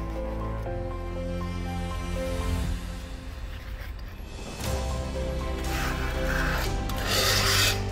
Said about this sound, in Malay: kita boleh juga gunakan pembaris ni, kerana pembaris ni mempunyai sudut yang lurus. Dan kita potong bahagian atas dia.